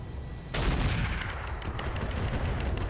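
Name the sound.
weapons firing in video game RogueTech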